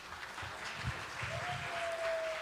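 Lecture audience applauding a pastor at the close of a church training session, a brief, moderate patter of clapping in a room, with a faint tone sliding in partway through.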